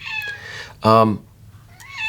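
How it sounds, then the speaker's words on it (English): A pet cat meows once loudly and close by, a short harmonic cry in a quiet indoor room with faint voice before and after. "my cat has to echo that sentiment. There she is."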